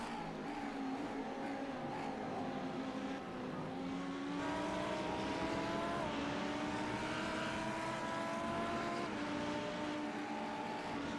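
Ferraris and other race cars in a VRS sim racing game at Road America produce a continuous engine whine, pitch rising gradually through gear changes as the pack drives on, steady and moderately loud.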